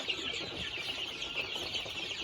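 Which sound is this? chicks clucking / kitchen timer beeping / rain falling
chicks clucking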